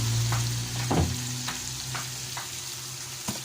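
Corn goes into a hot, sizzling pot for chicken corn soup, followed by a few clunks of stirring and a low steady hiss and crackle that fade to a quieter simmer, with no voices.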